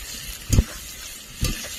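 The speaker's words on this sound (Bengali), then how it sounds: "টমেটো আর পেঁয়াজটা ভালো করে ভেজে নেব" Chopped onion and tomato with a few fennel seeds fry in a pan for chicken curry, with a faint low sizzle broken by two brief stirring scrapes close by.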